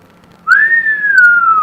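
A tin penny whistle sounds one clear, loud, sustained note after a brief quiet start, holding steady and sagging slightly in pitch.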